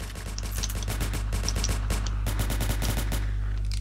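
Rapid automatic gunfire from the video game Breaking Point, a gun fitted with a grip, firing dense bursts of shots close up and loud throughout, with no talking.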